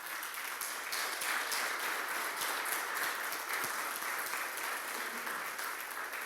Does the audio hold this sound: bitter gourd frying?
no